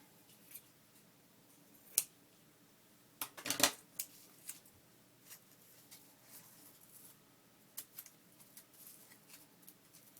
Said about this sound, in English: I need my fabric scissors for this guy.